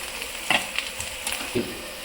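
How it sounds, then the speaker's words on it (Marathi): Fried onion with ginger, garlic and green chili paste being stirred in a hot pan for dhaba-style egg curry, a low sizzle with a few soft scraping clinks of the spoon, close and without talk. "आपण अद्रक, लसूण आणि हिरवी मिरचीची पेस्ट ॲड करायची आहे यात। व्यवस्थित हलवून घेऊया।"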